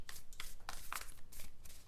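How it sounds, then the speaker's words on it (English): Tarot cards being shuffled by hand, a run of quick papery riffles and soft slaps close by, with no talking over them. "I'm going to do one more shuffle here."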